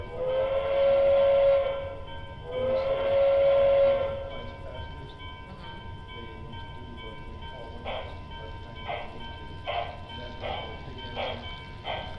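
A model railroad train at a club layout in Columbus, Ohio climbs a slope over a long trestle: two long whistle blasts, then a steady run of rhythmic clattering pulses at moderate volume.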